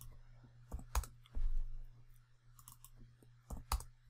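Scattered quiet clicks of keys as values are typed on a computer keyboard, a few separate taps and short bursts over a low steady hum, faint and close.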